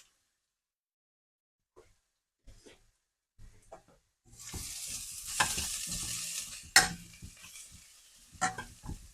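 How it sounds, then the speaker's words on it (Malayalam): Onions for a fish curry sauté in a pan. Quiet taps and scrapes come first, then a steady sizzle begins with rough stirring and scraping of a spoon across the pan. "നമ്മുടെ ഉള്ളി ചെറുതായിട്ട് വഴറ്റി വന്നിട്ടുണ്ട്"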